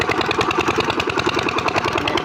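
An engine-driven pump machine moves canal water into a long field pipeline, about 80 metres of pipe. The engine runs as a steady, close, loud chugging drone throughout, with no pauses or talk.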